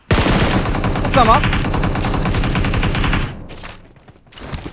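Rapid automatic gunfire in PUBG Mobile, a dense burst of shots running loud and continuous for about three seconds, then fading into quieter game sounds with a few later pops; a voice speaks briefly.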